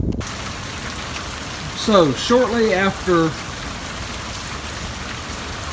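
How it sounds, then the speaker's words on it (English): Light rain sprinkles steadily over a garden, a soft even hiss throughout, while someone speaks briefly over it. "it started sprinkling rain. And it has rained all night long."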